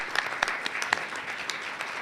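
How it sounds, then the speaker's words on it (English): An audience gives a brief round of applause for a panel at a local talk event about Alexandria's drinks, a dense patter of many hands clapping at close range. "a big round of applause also to Russ, Rosalind, and Sherry for putting together this wonderful panel"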